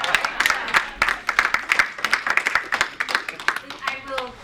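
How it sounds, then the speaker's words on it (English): A board meeting audience claps, crisp individual hand claps in an uneven scatter, close and fairly loud, while a voice speaks over them. "I think we should clap."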